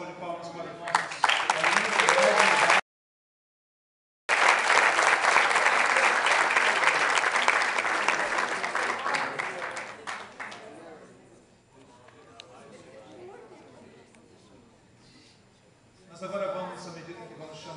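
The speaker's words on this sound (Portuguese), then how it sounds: "Vamos dar uma salva de palmas para nós." Audience applause at a graduation ceremony, a loud sustained wave of clapping from a large crowd that fades to a quiet murmur, then a brief renewed burst of clapping.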